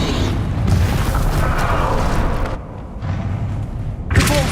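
Confringo and Bombarda spell blasts in Hogwarts Legacy erupt as loud booming explosions that rumble continuously for a few seconds, then a brief drop before another sharp blast near the end.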